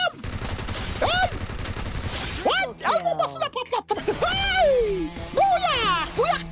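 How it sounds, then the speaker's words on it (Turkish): Free Fire MAX battle with a grenade blast and bursts of gunfire, loud and repeated across the moment, mixed with game effects and children talking over the action. "Dur şimdi oraya bir bomba sallayayım."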